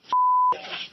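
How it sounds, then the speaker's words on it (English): A single steady censor bleep, close and loud, lasting under half a second and cutting over speech, with muffled talk following it. "I appreciate it being unintelligible while still getting a couple beeps in"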